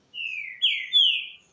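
Trinca-ferro songbird named Guerreiro singing three clear, bright whistled phrases in quick succession, near and loud with no talk.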